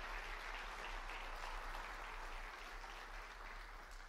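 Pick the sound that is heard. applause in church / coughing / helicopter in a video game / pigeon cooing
applause in church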